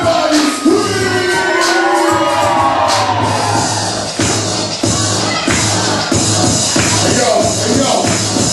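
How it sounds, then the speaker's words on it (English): A crowd at a Christian hip hop concert screams and cheers loudly and continuously, with shouts and whoops over a pulsing low beat. "everybody scream."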